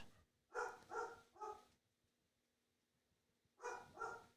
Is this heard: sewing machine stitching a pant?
no